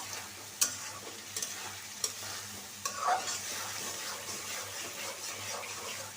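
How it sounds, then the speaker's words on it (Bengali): Steady sizzle of tomatoes and chicken sautéing in a pan, punctuated by a few sharp scrapes and taps of a spatula being stirred. "টমেটোটা দিয়ে দুই তিন মিনিট একটু কষায় নেব"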